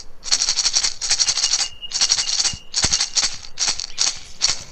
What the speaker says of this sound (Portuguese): Isso, ele é de percussão, é a maraca.